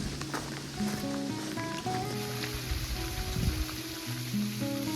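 Light rain falling in a canyon, a steady soft patter under a quiet outdoor background, with faint tones and low rumble mixed in and no speech.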